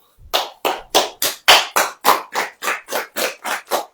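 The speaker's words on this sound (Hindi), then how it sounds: "ताली बजाओ" A congregation at a sermon claps in unison, about a dozen sharp, evenly spaced claps in a steady rhythm, loud and close, with no talking over them.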